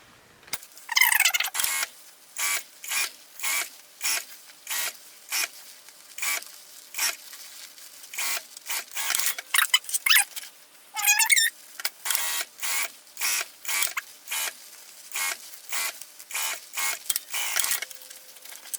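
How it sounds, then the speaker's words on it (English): A sewing machine top-stitches a sleeve seam in slow, evenly spaced bursts of rapid needle clatter separated by short pauses, close and clear with no talking. "We're just gonna go slow so that we can press, top stitch this open."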